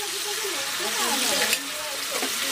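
Steady hiss of tofu frying in a hot pan, a continuous crackling sizzle with faint voices in the background.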